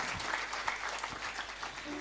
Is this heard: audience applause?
yes